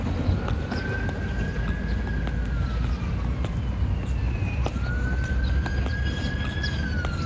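A police car siren wailing in a street, rising and falling tones sweeping twice at moderate distance over a steady rumble of traffic and hoof-like clopping.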